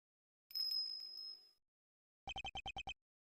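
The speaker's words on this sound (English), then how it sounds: "That sound, is that a bell?" A bell rings in the Ace Attorney Investigations 2 video game, heard as a bright sustained chime with a ringing tail, followed after a pause by a quick run of seven sharp, evenly spaced clicky blips.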